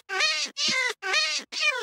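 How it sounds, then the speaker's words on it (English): Cat in another room yowling in four long, drawn-out, strained cries with short gaps between them, loud and insistent. "Yo, what is that noise? That's my cat."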